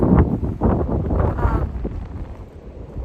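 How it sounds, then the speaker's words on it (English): Wind buffets the microphone in a heavy, rumbling roar at an Appalachian Trail shelter in the Smokies, gusting strongly at first and easing slightly toward the end. "It is pretty windy outside, but it's nice to have these tarps."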